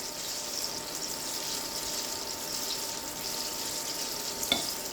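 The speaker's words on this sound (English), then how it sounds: "Frying all that healthy grease?" Steady, dense sizzling and bubbling of apple fritters deep frying in hot oil, constant and fairly close, with no talking.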